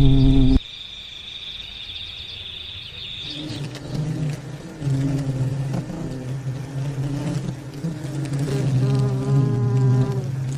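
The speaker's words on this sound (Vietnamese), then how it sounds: "Trong một nhà kho bên cạnh, những con ong bắp cày đã xây một chiếc tổ." Wasps buzz around their nest inside a shed, a close, steady insect drone with a rising higher whine at the start, then continuous humming that swells slightly toward the end.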